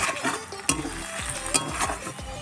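Onions fry in hot oil for a chicken curry, with a steady crackling sizzle broken by repeated scraping stirs of a spatula against the pan, close and fairly loud with no voices.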